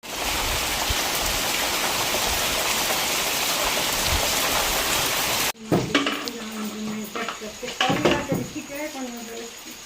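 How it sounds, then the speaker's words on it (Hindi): Heavy rain pours down in a steady, dense roar for several seconds, loud and close, then cuts off abruptly; afterward people talk amid clattering and household noise. "ये क्लिप है 2 दिन पहले की, जब तेज़ बारिश आई थी भी"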